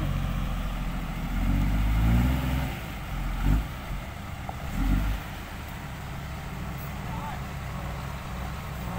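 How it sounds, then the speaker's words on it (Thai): A six-wheel truck engine labors through mud while a tractor pushes from behind, with low heavy rumbling that swells in two or three revving surges and then settles, and someone speaks over it. "รถไถบอกดันไม่ทันแล้ว6ล้อนี่วิ่งเอาวิ่งเอา"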